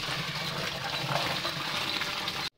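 Water poured into a large pot for a big batch of vegetable biryani, a continuous close gushing splash lasting a couple of seconds before cutting off abruptly.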